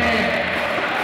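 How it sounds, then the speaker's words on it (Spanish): Large crowd applauding and cheering at Riquelme's stage entrance, a dense, steady roar of clapping and voices throughout the short stretch. "El aplauso grande."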